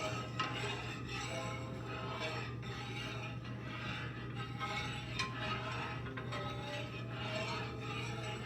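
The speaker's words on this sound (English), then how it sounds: "I just like to pass the spoon back and forth in the pot. Cover every area. You do like this, and you scrape the sides." A spoon is stirring in a pot on the stove while making tarte à la bouillie, passing back and forth and scraping the sides with a steady rasping scrape under a constant low hum.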